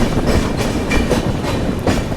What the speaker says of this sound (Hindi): हालांकि अब ये ट्रेन ओवरटेक तो मार रही है, पैरेलल रेस भी हो रही है एक तरह से।